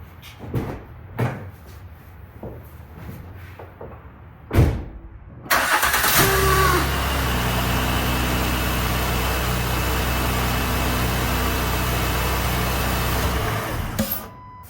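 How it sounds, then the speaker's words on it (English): A car with a failing starter motor, connected to a battery charger, is started after a few clicks and taps, then its engine runs in a loud, steady idle with a faint whine. "if the starter continues to make that noise, then we definitely know we have a bad starter"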